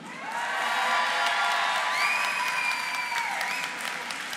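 Audience applause at a French voice-actor convention panel in Toulouse, a dense crowd clapping loudly and steadily for about four seconds with a few whoops and cheers mixed in.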